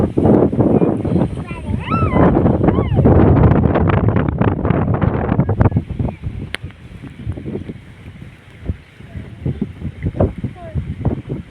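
Strong wind buffets the microphone beside a village lake where shrimp are netted, roaring loudly and steadily, with water sloshing underneath and someone talking over it.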